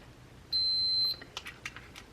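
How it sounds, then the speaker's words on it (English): A voltmeter on its diode setting gives one clear, steady continuity beep about half a second long while testing a coffee maker's power switch, followed by a few faint clicks of the probes. "We've got the voltmeter set on diode setting, which beeps like so when we have continuity."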